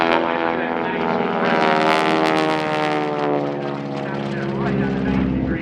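A North American SNJ-6 (T-6) trainer with a supercharged radial engine roars past inverted during an aerobatic airshow display, a loud sustained propeller drone with shifting pitch as it passes along the show line.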